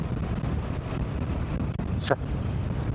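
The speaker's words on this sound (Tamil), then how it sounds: "நல்ல காற்று." Steady wind roars against the microphone during a long-distance motorcycle ride from Chikmagalur toward Chennai, forming a constant broadband rush with a brief sharper swish near the end.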